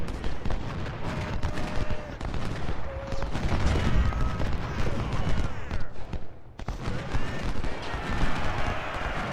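Musket fire from a Civil War battle in Ultimate General: Civil War crackles in dense, uneven volleys. Scattered shots and rolling fusillades continue steadily throughout, with someone talking over the din.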